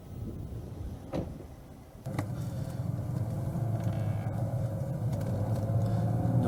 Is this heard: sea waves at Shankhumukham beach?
no